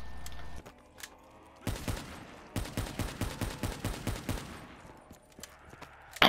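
Rapid automatic gunfire in Black Ops 3 Zombies: a short burst, then a long steady string of loud, evenly paced shots that fades into quieter background noise.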